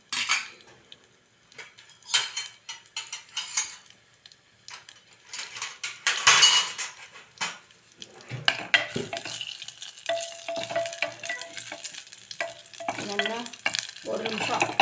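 Kashmiri chili and kasuri methi frying in a pan for a vegetable kurma, with metal spoon clinks and scraping stirs over a steady soft sizzle, close and moderately loud, with no talking.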